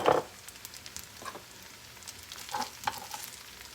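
Something toasting in a hot pan for shrimp fried rice, with a soft, steady sizzle and a few light clinks and stirring scrapes, close and fairly quiet.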